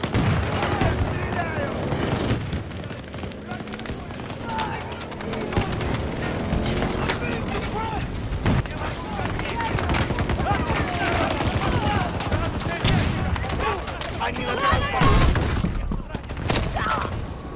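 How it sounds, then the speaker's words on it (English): Sustained video game gunfire aimed at a large tank, rapid overlapping shots and bursts with occasional booms running throughout, loud and close, with some voices mixed in. "I'm gonna shot at that big ass tank."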